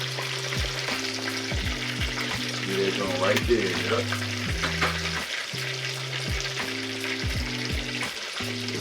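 Steady crackling sizzle of chicken frying in hot oil, close up, with someone talking briefly over it and a low background hum.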